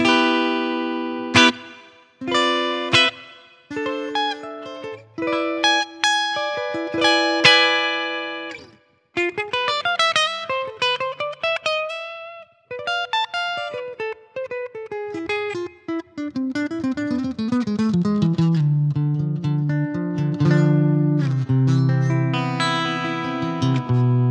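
A clean electric guitar through combined piezo and magnetic pickups plays a mix of single notes and chords, sometimes pausing, with a bright, slightly shimmering tone and no talking.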